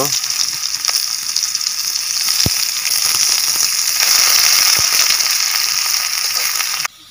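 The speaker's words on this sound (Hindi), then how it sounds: "जीरा फुटण" Cumin and onion fry in a little hot oil during village tribal cooking: a loud, dense, steady sizzle close by, broken by a few sharp pops and ending abruptly.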